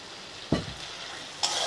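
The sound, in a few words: tomato paste sizzling as it is added to frying fish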